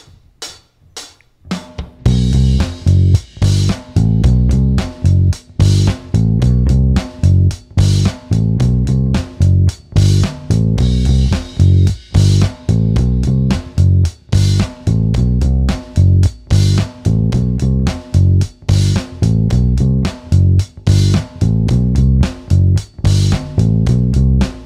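Bass guitar plays a song's groove over a full drum beat, loud and driving, with a short count-in followed by a steady repeating rhythm throughout.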